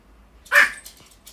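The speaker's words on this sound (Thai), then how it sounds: "เสียงบอลองเห่าแล้วค่ะ" A dog gives one sharp, close bark in a quiet room, loud and brief, with a faint trailing yelp afterward.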